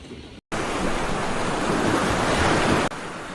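Ocean waves surge as a loud, steady wash of surf, briefly cut to silence near the start, then rolling on with a windy roar before easing slightly at the end.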